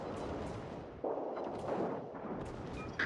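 Naval gunfire in World of Warships during a tier 10 clan battle, a steady rumbling barrage with a heavier boom near the middle and another at the very end, dense and continuous throughout.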